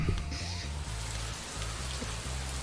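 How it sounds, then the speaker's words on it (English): A rain and thunder sound effect is played back, a short patter of rain with low pulsing tones underneath, moderately loud and steady. "I've got some thunder and rain."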